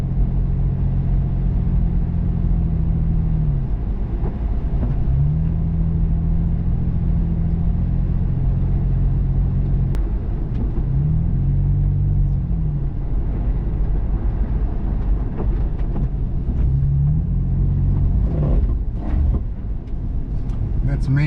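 An FJ Cruiser's engine rises and falls in repeated revving bursts as its tires spin on snow, with a steady loud rumble running throughout and voices heard intermittently.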